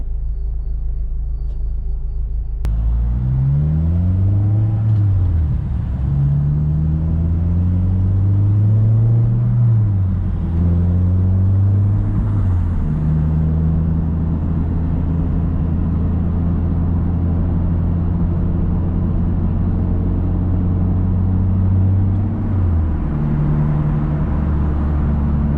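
Honda Civic Si with a Fullrace downpipe and exhaust, recorded from a bumper-mounted mic as the car starts off, a deep rumbling exhaust rising and falling through several gear changes, loud and steady for the whole drive.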